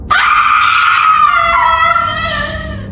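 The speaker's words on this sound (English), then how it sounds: "Jacob heard screaming explode through the forest." An eerie, inhuman scream used as a scary-story sound effect rings out loud and close, one sustained wailing, howl-like cry lasting about three seconds, its pitch sagging slightly as it fades.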